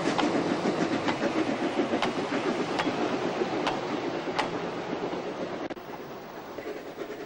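A narrow-gauge Ischlerbahn train runs through open fields, a steady rolling rumble with regular clicks of wheels on rail joints, fairly close and slowly fading, with no talk.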